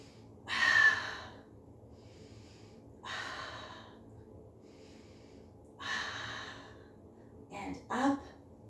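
Heavy breaths during a Pilates mat workout: three long, close exhales spaced a few seconds apart, then two quicker, sharper breaths at the end, with quiet room tone in between.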